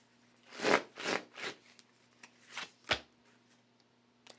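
Tarot cards are riffled and shuffled in a series of quick, papery bursts, close up, with a few softer flicks trailing off.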